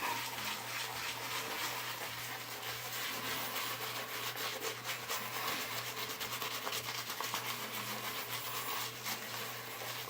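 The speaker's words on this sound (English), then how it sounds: "Begin working a lather in." Steady brushing and rubbing of a peach-scented shaving soap lather being worked onto a wet face, close and continuous with a faint low hum underneath.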